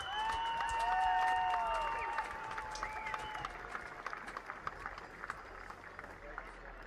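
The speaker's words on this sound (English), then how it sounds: "Let's give him a round of applause," Crowd applause at the UCI BMX Racing World Championships, a dense field of clapping and cheering that swells early, then thins, with an announcer's voice and whistling tones over it.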